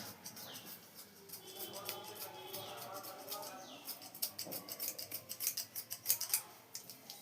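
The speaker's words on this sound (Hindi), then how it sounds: "ये देखिए इसी तरीके से सारे ब्लाउज की कटिंग करना है।" Scissors snip through blouse fabric in a run of quick, crisp cuts, faint and close, the clicks speeding into a fast rhythm near the end with no talking.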